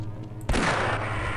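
A single sudden loud shot in Half-Life: Blue Shift cuts through a low droning background, then decays into a long rumbling tail.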